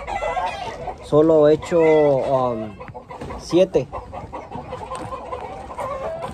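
Roosters clucking and crowing in a flock of eight fighting cocks kept for feeding, with a loud crow-like call near the middle, under a man's speech throughout.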